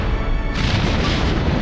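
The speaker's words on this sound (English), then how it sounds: "Explosions! Flames!" A loud cinematic movie explosion with flames, a dense roaring burst that swells partway through and rumbles on heavily for the short moment.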